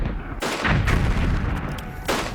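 Heavy gunfire and shellfire in a World War I trench, dense overlapping bangs and rumbling blasts forming a loud, continuous barrage with a few sharper bursts standing out.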